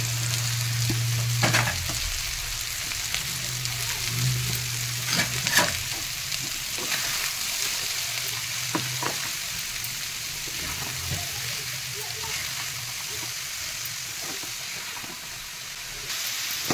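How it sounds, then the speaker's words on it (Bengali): Chicken frying in a pan with onion, peas, coriander leaves, capsicum and a little cabbage, a steady close sizzle broken by scattered spatula clacks and stirring scrapes, with no talk. "এবারে এই চিকেনে এগুলো ভেজে নেব।"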